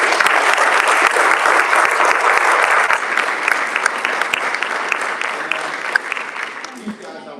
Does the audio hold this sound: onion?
no